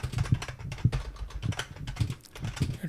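Computer keyboard typing while writing code, a steady run of soft key clicks at a moderate, slightly irregular pace, close and alone with no talk.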